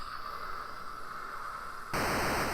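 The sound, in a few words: white noise flying sound of the Superman video game, imitated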